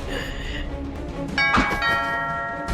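A doorbell chimes during a Guilty Gear story scene, with a bright ringing tone that fades, then a second louder ding-dong strike partway through.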